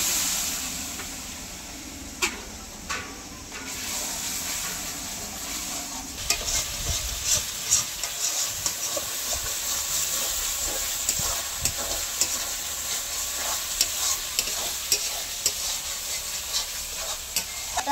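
Masala for chicken, catching on the bottom of the pan, sizzles after water is added and is stirred hard. A steady frying hiss runs under frequent sharp scraping strokes, with no talking.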